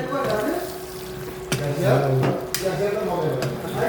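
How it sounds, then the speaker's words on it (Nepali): Local chicken soup (kukhura ko jhol) with tomato gravy is stirred in a pot, making a bubbling, watery churn up close, with a few sharp spoon knocks against the metal and a faint murmur underneath. "अब चलाउँदैछु।"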